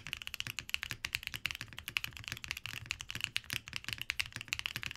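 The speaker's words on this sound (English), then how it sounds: "The plate foam will definitely make the keyboard sound even deeper" Rapid, even typing on an Owlabs Vento 80 mechanical keyboard with plate foam fitted, giving a dense run of close, crisp, deep-toned key clacks and no talk.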